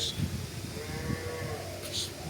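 A pregnant dairy cow with a calf moos low and drawn out over steady farmyard background noise, fairly faint and at some distance.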